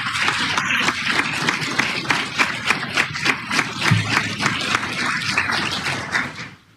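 Steady applause from an audience fills the room after a speech at the Brazilian Supreme Federal Court (STF), dense and sustained, then tapering off at the end.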